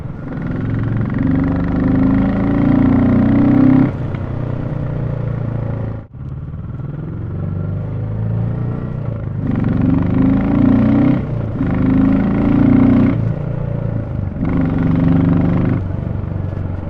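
A single-cylinder 350cc Royal Enfield Classic motorcycle engine runs loudly nearby, a thumping, throbbing note that rises and falls repeatedly with revving, with one brief dip in the middle.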